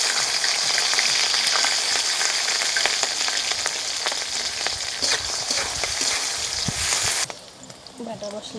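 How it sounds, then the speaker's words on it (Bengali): Loud, steady frying hiss from a pan in a village kitchen as boal river fish cooks, with continuous sizzle and stirring until it drops off abruptly near the end. "এখন রান্না হবে বোয়াল মাছ।"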